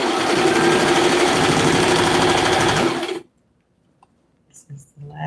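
A sewing machine stitches an apron with deep pockets in a loud, steady run for about three seconds, then stops abruptly, leaving near silence with a few faint small sounds.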